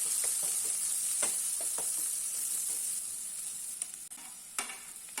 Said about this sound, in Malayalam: ഇതും കൂടെ ചേർത്തിട്ട് നന്നായിട്ടൊന്ന് വഴറ്റിയെടുക്കാം.